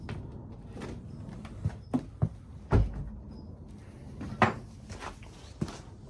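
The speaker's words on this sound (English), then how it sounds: "need to shut the door on that." Several soft wooden knocks and thuds nearby, like a door or cupboard being pushed shut, scattered over a few seconds in a quiet room.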